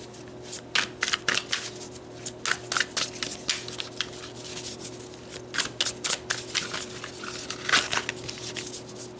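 Tarot cards being shuffled by hand, a rapid run of crisp riffling flutters and taps in repeated bursts, close and clear over a faint steady hum.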